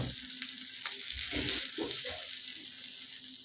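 Okra stir-fried in an iron kadhai, a soft steady sizzle broken by several scraping, clattering stirs of the spatula in the middle, fairly quiet and close.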